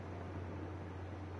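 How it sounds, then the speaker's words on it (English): Rain patters on a roof in the video game Final Fantasy XIV, a steady soft hiss with a low hum underneath, brief and even. "the sound of the rain on the roof"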